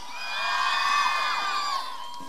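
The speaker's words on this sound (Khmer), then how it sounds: "ចាសូមសម្លេងហោម្ដងទៀត" A large outdoor crowd at a Water Festival concert cheers, whistles and whoops loudly and continuously, with shrill sustained voices rising and falling together.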